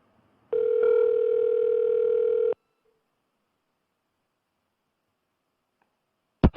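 A telephone dial tone hums steadily for about two seconds, then stops, leaving silence until a couple of short clicks near the end.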